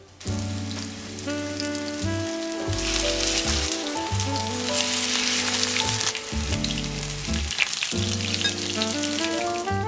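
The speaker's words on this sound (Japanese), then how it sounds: "フライパンに多めの油を熱し、高野豆腐を全面こんがりと揚げ焼きにします。" Breaded koya tofu shallow-fries in plenty of hot oil in a frying pan, a dense, loud sizzle that runs without a break. Steady music plays over it.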